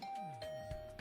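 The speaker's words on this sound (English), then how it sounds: "I'll ring the bell first." A doorbell chimes at Darumi's room in the video game The Hundred Line: Last Defense Academy, giving a soft, brief ding-dong tone that is faint and heard alone.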